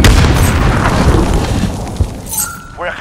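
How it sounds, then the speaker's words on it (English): A grenade blasts in Call of Duty Modern Warfare multiplayer combat, a loud booming explosion with shattering debris that rumbles and fades, followed by smaller pops and a short electronic tone near the end. "Throw grenade!"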